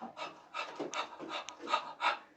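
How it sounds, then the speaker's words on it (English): Heat-stressed broiler chickens on a poultry farm pant heavily in quick, rhythmic bursts of breathy huffing, about eight short puffs in a row, close and fairly quiet. "when your broiler bird are passing through heat stress, when you come into your poultry farm, you see them panting heavily"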